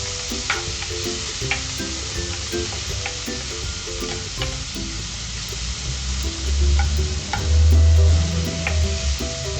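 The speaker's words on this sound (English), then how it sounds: "The coriander leaves, garlic and green chili, and I will give it a good mix." Coriander leaves, garlic and green chili sauté in a pan with a steady close sizzle and light stirring clicks, while a low rumble swells near the end.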